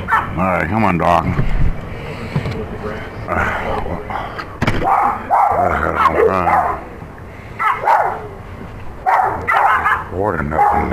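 A dog barks and yips in short bursts at close range, mixed with a person talking throughout and occasional thumps.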